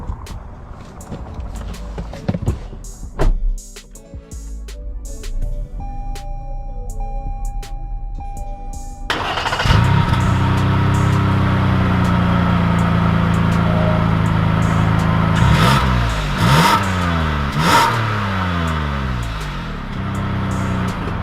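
A Toyota Highlander engine starting up and driving off: a sharp ignition catch, then a steady engine hum that climbs in pitch through a couple of accelerations, heard from inside the car with no talk.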